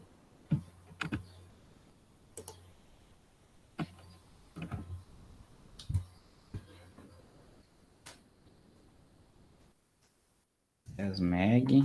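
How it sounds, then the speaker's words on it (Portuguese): Someone types on a computer keyboard during an electronics class exercise, producing sparse, soft clicks and taps in a quiet room; a voice starts talking near the end. "Estou ali digitando a tolerância dele aqui."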